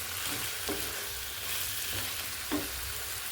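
Onion and tomato tempered in hot oil with kasuri methi give a steady, close sizzle, with a few soft stirring scrapes and no voices.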